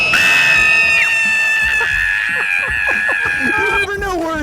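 A woman screams nonstop while cheering for the Tarrant Wildcats at a high school football game, a loud, sustained high-pitched shriek with a few breaks, close up amid crowd noise.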